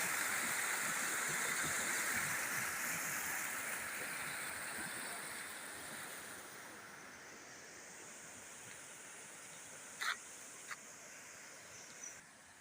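A village river still running high after a recent flood rushes steadily in a broad, continuous wash, with a few faint knocks near the end.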